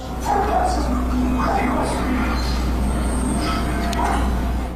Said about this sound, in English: his dogs are going crazy too, the kind of restless barking when danger is approaching